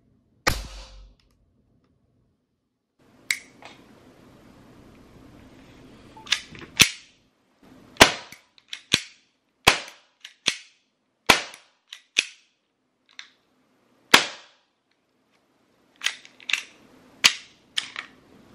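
Glock 17 CO2 paintball pistol firing a long series of sharp, loud single pops, spaced irregularly with some quick doubles, separated by silent gaps where the gun jams.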